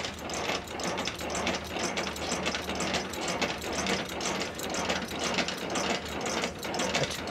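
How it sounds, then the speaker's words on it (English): A semi-trailer's landing gear is cranked up by hand, giving a steady, fast run of ratcheting gear clicks close to the microphone, with no talking. "This is our landing gear, so we're gonna crank this up."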